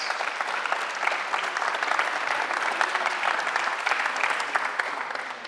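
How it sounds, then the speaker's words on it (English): A large audience at a Kyokushin Karate event breaks into sustained, dense applause honoring a world champion, steady and loud for the whole stretch with no voices rising above it. "big round of applause again."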